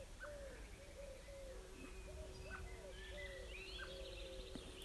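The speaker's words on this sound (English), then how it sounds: "I can hear the wood pigeon." Soft, repeated wood pigeon coos sound at a distance in a steady rhythm, mixed with chirping birdsong from several other birds in a garden.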